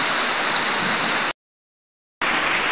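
Heavy rain from storm clouds over the mountains during the year's first typhoon pours as a loud, steady hiss, cutting to silence partway through before resuming just as strong.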